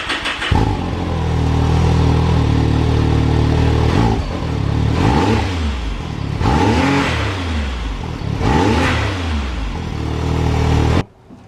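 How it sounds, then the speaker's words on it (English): A loud Can-Am Maverick X3 Turbo R side-by-side engine with stock exhaust revs repeatedly, rising and falling in several sharp bursts over a steady idle rumble, then cuts off abruptly at the end. "we're going to get a stock exhaust sound check."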